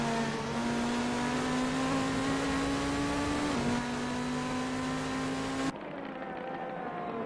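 Mercedes SLS GT3 race car engines roar steadily in the Assetto Corsa racing game at Mugello, a loud sustained drone with a shift in pitch midway, then a sudden drop as the sound moves off.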